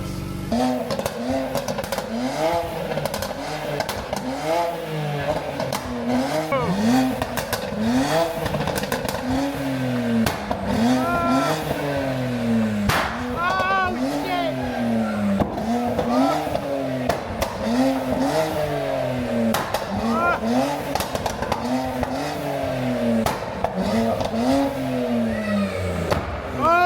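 A Kia Stinger with a custom twin-turbo kit and catless exhaust revs repeatedly, its loud, raspy exhaust rising and falling in steady blips up close for nearly half a minute.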